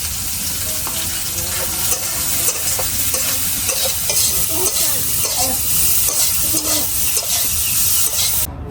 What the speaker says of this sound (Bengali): সয়া বড়ি গুলা ভাজা হয়ে গেছে